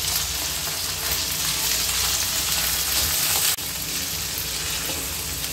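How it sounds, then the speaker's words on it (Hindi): Chicken liver frying with onions in a hot pan, a steady dense sizzle that holds loud and even throughout, with a brief dip near the end. "कलेजी को मैं प्याज में अच्छे से फ्राई कर लूंगी"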